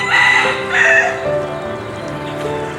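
A rooster gives one loud, close crow, followed by quieter clucking and farmyard sounds as it fades out.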